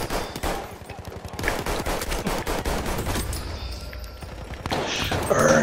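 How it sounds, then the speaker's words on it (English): Gunfire and a grenade blast in the Battlefield 1 video game, a rapid burst of shots and booms that fades before louder action returns at the end. "That's a grenade."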